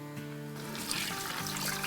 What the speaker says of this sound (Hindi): तो चले अब हम इसमें पानी डाल देते हैं।